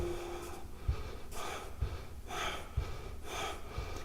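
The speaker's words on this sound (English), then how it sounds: "Exhale as the knee comes in." Breath during a morning energising yoga flow with knee-tapping movements: steady, audible exhales repeat at a regular pace over a constant low background hum.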